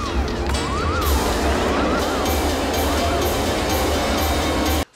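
Glass shatters in a film scene, heard as a loud, sustained crash mixed with ringing tones and some voices, cutting off abruptly at the end.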